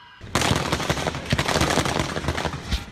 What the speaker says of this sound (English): From passerby's cell phone video, you can hear the barrage of gunfire.